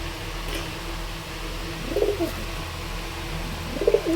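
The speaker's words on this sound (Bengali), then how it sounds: "এটা বোচো পায়রা আছে।" Pigeons freshly bought at a market, including a bocho pigeon, give two short, low, throaty coos about two seconds apart over a dull background hum, with no talking.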